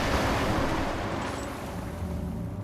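Steady, broad watery wash with a low rumbling roll, like water churning and sloshing continuously, with no voices, from the video game Amnesia: The Dark Descent.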